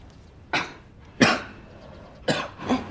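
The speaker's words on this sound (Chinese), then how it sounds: "哎，你怎么咳嗽了？" A person coughs four times in short, separate bursts, close by and fairly soft, with quiet between the coughs.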